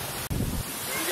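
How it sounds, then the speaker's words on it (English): Wind gusts across an outdoor mini golf course, a broad rushing roar buffeting the microphone with a brief dropout, loud and continuous throughout the short moment. "It's getting a little windy, isn't it?"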